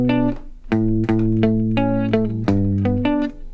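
Guitar plays measures 3 and 4 of a song, a run of plucked notes and ringing chords with a bright processed tone, close and clear with no talking.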